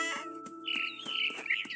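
Small bird in the video game What Remains of Edith Finch, a series of quick, bright chirps and trills repeating rapidly over a soft tonal background, moderately close and fairly quiet.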